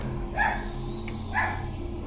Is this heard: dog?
yes